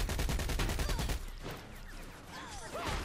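Gunfire in the video game Saints Row IV: a rapid burst of automatic shots for about a second, then fainter scattered shooting and whizzing effects, loud and close over a busy game mix.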